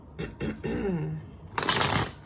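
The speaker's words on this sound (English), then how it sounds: "Let me shuffle one more time." A quick riffle of tarot cards being shuffled, a dense papery burst of about half a second, coming after a few soft murmured sounds.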